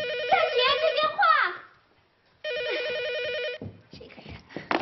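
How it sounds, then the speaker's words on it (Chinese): An office telephone rings in a warbling electronic pattern, two clear bursts separated by a short silence, with a voice and other talk heard around the rings. "夏雪，夏雪，接电话。"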